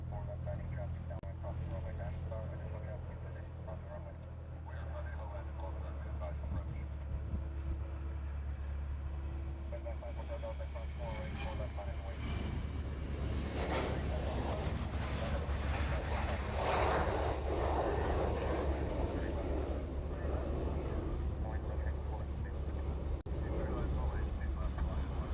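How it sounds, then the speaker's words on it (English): A Hawaiian Airlines Boeing 717 departs Honolulu airport, its jet roar building from a distant rumble to a loud, broad rush, while someone talks throughout. "This next Hawaiian, 717, is heading off"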